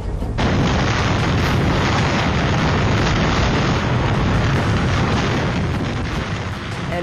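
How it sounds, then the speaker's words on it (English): Hurricane Irma's 185 mph winds slam St. Martin in a continuous, loud roar of broadband wind noise with dense gusting rumble and buffeting, sustained at full strength for several seconds with no talk. "that is the sound of 185 mile per hour winds slamming St."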